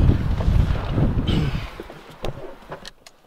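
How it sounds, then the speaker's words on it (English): Low, blustery wind buffets the microphone, loudest at first and then fading, with a few faint knocks near the end. "It's quite windy."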